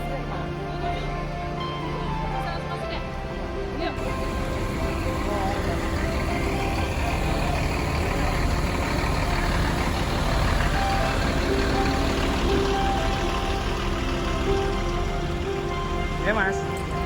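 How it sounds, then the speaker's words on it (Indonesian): A bus pulls into Kampung Rambutan bus terminal with a loud, steady engine rumble, intermittent reversing beeps and a rain-like hiss, all continuous and close, with voices faintly in the background. "bus kita akhirnya tiba."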